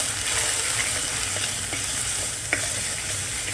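Spice masala with red chilli powder and mutton masala sizzles in a hot pan for mutton, with a steady loud frying hiss and a few faint scraping stirs, no voices.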